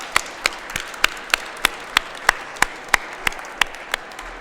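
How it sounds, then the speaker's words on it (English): Slow, steady audience applause at a homecoming crowning event pulses at an even beat, a dozen or so distinct claps rather than a full crowd roar. "Can we please give all of them a round of applause for their work?"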